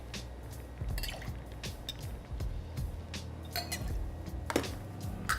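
Simple syrup poured into a measuring cup, with soft liquid trickles and drips mixed with light clinks of glassware and utensils nearby.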